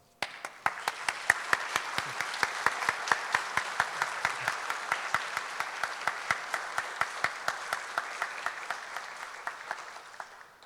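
Steady audience applause at a public talk on the Sermon of the Upper Room, sustained clapping of a fairly large crowd lasting about ten seconds with distinct sharp claps standing out above the dense wash.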